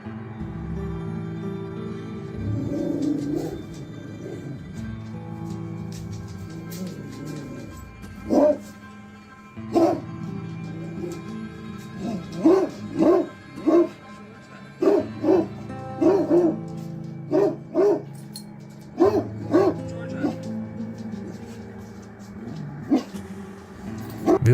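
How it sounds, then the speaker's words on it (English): A dog barks repeatedly at an old oil painting newly hung on a home wall, sharp bursts in irregular clusters with some whimpering and yips between them, fairly close and without talk. "her dog suddenly starts barking."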